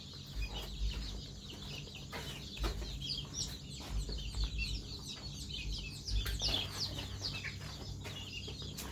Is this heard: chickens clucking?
yes